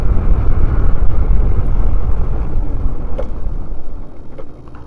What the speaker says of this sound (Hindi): ऊपर चढ़ाएं यहाँ से मोटरसाइकिल।